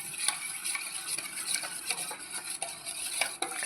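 A spoon stirs a mixture in a tumbler of water to dissolve it, giving close, steady, rhythmic clinks and scrapes against the glass with no voices.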